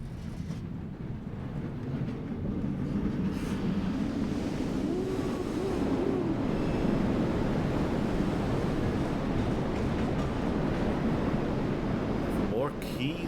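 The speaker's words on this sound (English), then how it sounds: "let's roller coaster our way through here" A tram ride in Riven rolls along like a roller coaster, giving a continuous, broad, rushing rumble with wind-like noise and a faint rising whine near the end.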